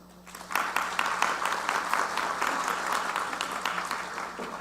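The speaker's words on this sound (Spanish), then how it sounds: "recibimos con un fuerte aplauso al magistrado Arturo Márquez González" Audience applause welcoming a magistrate who serves as moderator of a panel on building a pluricultural state. Steady clapping from many hands starts after a quiet half-second and holds at an even level to the end, with no talk over it.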